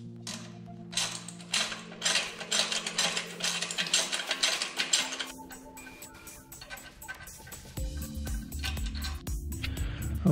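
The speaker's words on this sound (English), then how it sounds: "let me bolt the brackets on and then I'll put the aluminum tank on" Metal tank brackets being bolted onto a motorcycle frame during final assembly of a custom bike fitted with an aluminum fuel tank, giving clustered mechanical ratcheting and wrench clicks close by, with a steadier low mechanical hum later.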